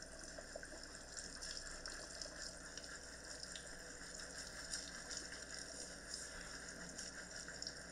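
Tap water runs steadily and fairly loudly, soaking hair under the faucet during a first wash before lathering, a continuous splashing gush with no talking.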